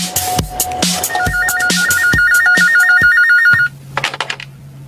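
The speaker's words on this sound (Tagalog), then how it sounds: "tumakan telepono" A telephone rings loudly and close, an electronic warbling ringtone trilling in repeated bursts over clicks and thumps, then cutting off before a low steady hum.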